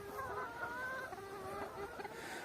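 A flock of farm chickens clucks steadily and contentedly on a muddy day as bread is tossed to them, their overlapping calls forming a continuous, fairly close chorus with no talk.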